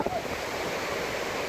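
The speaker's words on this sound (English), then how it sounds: "Oh, you're getting caught by the waves." Ocean waves washing onto a beach at South Shields, a steady broadband surf wash with a soft onset, heard throughout at moderate level.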